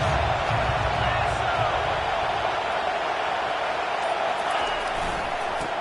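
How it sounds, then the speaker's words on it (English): A football stadium crowd roars as a steady, loud wash of noise that holds throughout the game play, with no clear swell. "this crowd is turning it up a notch."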